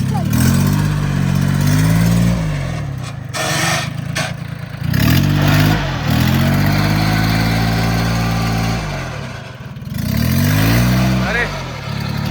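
A 4x4 tractor stuck in mud revs hard in repeated strained surges, its engine climbing and falling in pitch with brief easings between pushes. The sound is loud and close, with voices heard at times.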